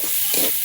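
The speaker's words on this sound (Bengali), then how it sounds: "একটু ভেজে নেব।" Shredded cabbage frying in a pan, a brief bright hiss of sizzling with a faint stirring shuffle, close and steady, no talk.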